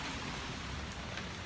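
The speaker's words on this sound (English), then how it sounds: "It's also raining pretty heavily." Heavy rain falling outdoors, a steady, dense hiss of water that holds at an even level throughout with no other sounds breaking through.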